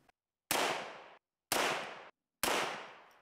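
Three loud, close gunshots from a Henry .30-30 lever-action rifle firing 150 grain loads, each a sharp blast with a long ringing decay, evenly spaced about a second apart with silence between.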